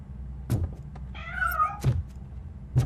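A cat meows in the video game RoboCop: Rogue City, one clear drawn-out meow in the middle, framed by three dull thuds spaced evenly across the clip, with no speech.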